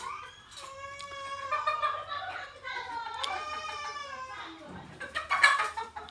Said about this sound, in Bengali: ফার্মি মুরগিগুলান